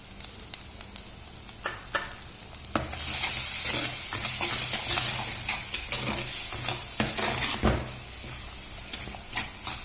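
Tomato paste being stirred and sautéed in a pan for a Kerala-style fish curry: a loud, steady sizzle of frying with repeated scraping stirs, close and without speech.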